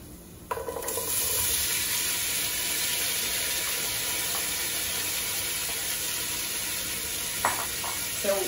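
Garlic and ginger sizzle steadily in a hot pan, a continuous close frying hiss with a few scrapes and clinks of a utensil, no one talking.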